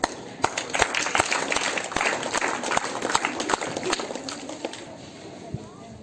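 An audience applauds at a school Independence Day program as a kindergarten child is called up, scattered claps and crowd noise running through the whole stretch at moderate loudness.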